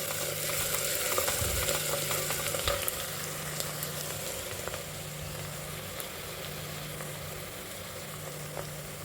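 Onions with curry leaves sauté in a pan for a Chettinad raw jackfruit fry, giving a soft continuous sizzle with occasional stirring scrapes against a low steady hum.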